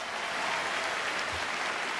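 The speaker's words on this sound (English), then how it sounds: "big round of applause" Audience applause at an evening concert for a birthday, a steady dense wash of clapping held at an even level for two seconds, with no voices over it.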